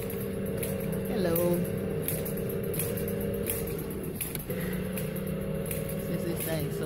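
A noisy motorized store wheelchair hums steadily while being ridden through a shop, a constant mechanical drone with faint clatter beneath a person talking.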